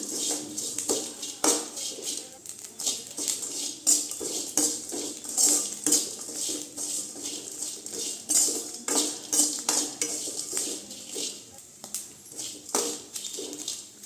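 Dried anchovy (nethili karuvadu) fry stirred in a pan: a metal spatula scrapes and clinks against the pan in an irregular, repeated rhythm over a faint sizzle, close and fairly loud, with no voices.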